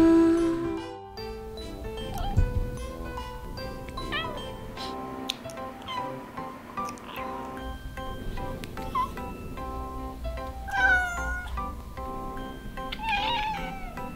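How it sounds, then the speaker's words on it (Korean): A cat meows and yowls repeatedly, close by, with rising and falling cries over faint background sounds. "예쁜 고양이에요."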